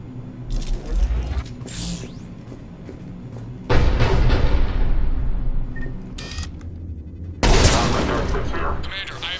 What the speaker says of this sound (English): The cannon fire is clearing the way.